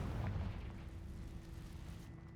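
A Confringo fire spell bursts in Hogwarts Legacy, a deep booming blast right at the start that rolls off into a low, sustained rumble.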